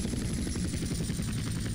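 A helicopter lifting off in GTA San Andreas, a loud close rotor chop in a fast even pulse over a steady turbine whine, with no talking.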